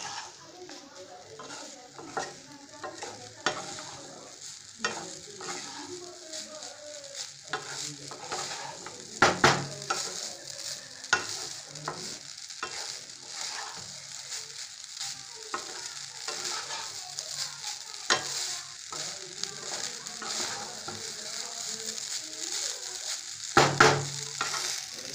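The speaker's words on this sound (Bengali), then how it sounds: "ভাতটা আমি ভালো করে ফ্রাই করে নিচ্ছি" Cooked rice for chicken fried rice is stir-fried in a pan, giving a continuous close sizzle broken by repeated scraping and clinking of a utensil against the metal.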